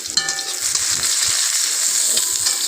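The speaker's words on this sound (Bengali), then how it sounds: "প্রথমে আমি কড়াইয়ে তেল গরম করে নিয়ে দিয়ে দিলাম পেঁয়াজ কুচি" Chopped onion hits hot oil in a wok, a loud, bright continuous sizzle and hiss that fills the whole stretch, with faint stirring underneath and no talk.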